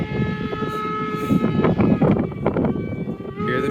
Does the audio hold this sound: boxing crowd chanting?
no